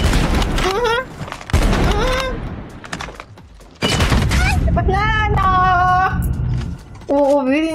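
NA45 sniper rifle hip-fired in a video game, loud sharp shots in a few bursts mixed with game sounds and tonal effects, a player talking over them.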